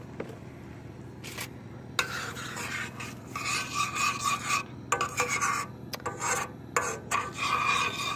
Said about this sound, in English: Give it some stirring.